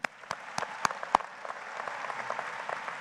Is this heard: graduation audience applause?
yes